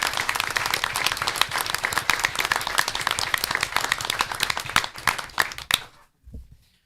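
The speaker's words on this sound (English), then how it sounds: "One more round of applause for the Superintendent Art." Audience applause at a school district board of education meeting: a dense, sustained round of clapping that thins out and stops abruptly, then a brief low thump before silence.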